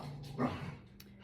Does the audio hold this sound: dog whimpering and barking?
yes